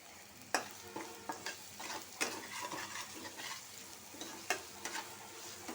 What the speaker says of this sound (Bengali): আর একটু তেল অ্যাড করবো বুঝে দিয়ে দিব কিছু আস্ত মশলা